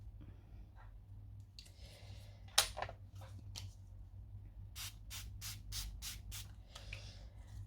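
A paintbrush rubs and blends powder pigments on a surface, giving soft, short scratchy strokes in bursts, faint and close with quiet pauses between.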